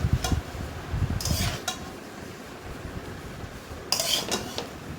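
Egg fried rice being stirred in a pan: a few clanks and scrapes of a utensil against the metal come in short bursts near the start and again near the end, over quiet background hiss, with no voices.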